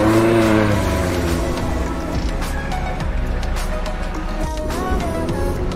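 A modified Maruti Zen at a car club meetup puts out a throaty, droning exhaust note, loud and close, with engine tones rising and settling amid outdoor crowd noise.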